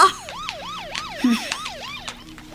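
A police car siren wails in a fast, regular rising-and-falling cycle, loud and steady, with faint background noise behind it.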